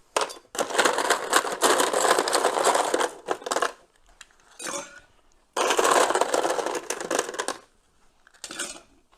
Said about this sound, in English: And then ice.